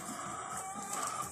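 Chickens cluck steadily at close range, a busy overlapping texture of hen calls with a constant background hum and no talking.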